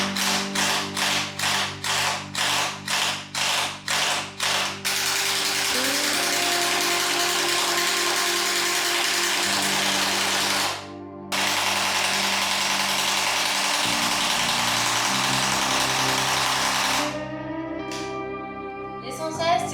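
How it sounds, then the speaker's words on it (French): An impact wrench hammers at rusty bolts on a Citroën 2CV, first in a quick string of short rattling bursts, then in one long sustained run with a brief break, ending in faster rattles. "même avec la clé à choc, c'était pas forcément mieux"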